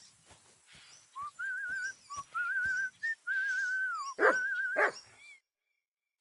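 A dog in Kingdom Come Deliverance 2 gives several sharp barks and whimpers amid long wavering tonal whistles, close and fairly quiet, ending in silence.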